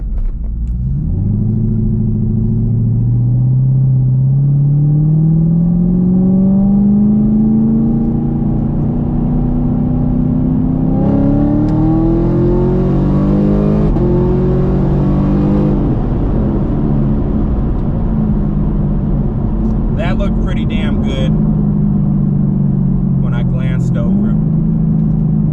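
A ProCharger-supercharged car doing a wide open throttle pull, its engine drone rising steadily in pitch through the gears with a shift partway through, loud and close inside the cabin with a supercharger whine.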